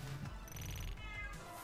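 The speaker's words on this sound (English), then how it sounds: "Why is Mason meowing so loud right now?" A house cat meows a couple of times, drawn out but fairly faint, under steady electronic chimes from an online slot game.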